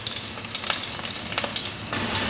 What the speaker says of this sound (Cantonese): 真係煎脆兩面